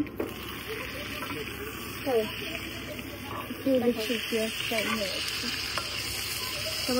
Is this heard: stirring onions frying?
yes